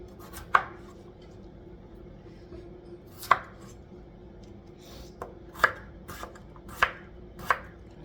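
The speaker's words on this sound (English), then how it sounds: "Just keep dicing. Dicing. Dicing." A knife chops on a cutting board in sharp, separate knocks, six or so spaced unevenly over a quiet room background.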